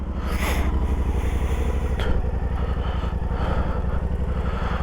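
A Yamaha Tenere 700 World Raid motorcycle engine runs steadily up close, with a deep, pulsing idle rumble throughout and a brief rise in revs midway.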